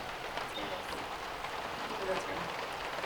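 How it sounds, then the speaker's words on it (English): Rain patters steadily on a roof during a boat trip among the 1000 Islands on the St Lawrence, a faint, continuous drizzle of soft taps. "So you can hear the rain if we're quiet. You can hear it on the roof."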